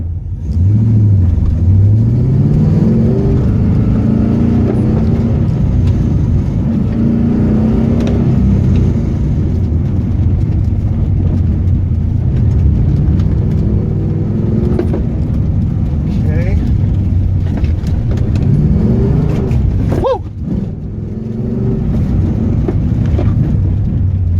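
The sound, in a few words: Pontiac GTO engine revving during autocross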